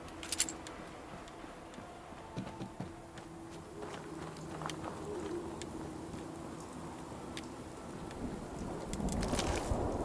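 Steady rain falls through a night thunderstorm in the video game Fallout 4, with low rumbling thunder and scattered footstep-like taps, all fairly faint and continuous.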